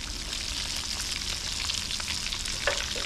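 Golden fish fillets fry in a hot pan with a continuous crackling sizzle close by, and one small pop near the end; no one speaks.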